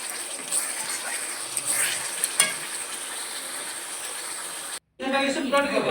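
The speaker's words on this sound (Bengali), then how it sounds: "আর এদিকে মশলা কষানো হচ্ছে," Spice masala frying in a pan gives a faint, steady sizzle with light stirring scrapes that cut out briefly near the end before resuming.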